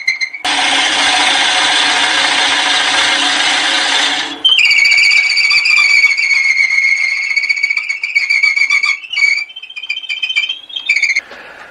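A drill bit bores into wood while a knockout bar is being made, giving a loud, steady broadband grinding roar for about four seconds. Then it drops to a higher whining tone as the bit slows and backs out, with brief stutters near the end.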